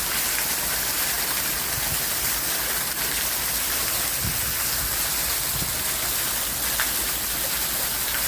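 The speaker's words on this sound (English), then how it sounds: "A lot of rain" Heavy rain falls steadily in Jamaica, a dense, even hiss of downpour running unbroken and fairly loud throughout, with no voices.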